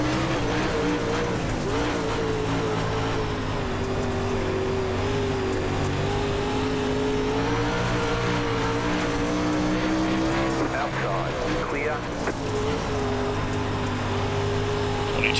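Pro Late Model race cars roaring around the dirt oval at Knoxville Raceway in iRacing, a loud, steady engine drone that rises and falls in pitch with occasional tire scrubbing, and a voice talking underneath.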